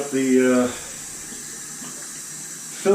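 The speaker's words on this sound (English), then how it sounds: "up my scuttle with hot water again after it's been soaking." Hot water runs steadily from a tap into a shaving scuttle, with a voice speaking briefly at the start and again at the end.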